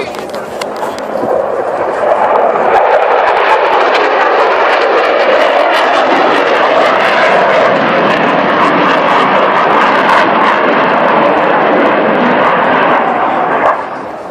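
A P-51 Mustang makes a pass at a Heritage Flight airshow, its loud piston-engine roar swelling and holding for several seconds as it sweeps past, then easing off, with crowd noise around it.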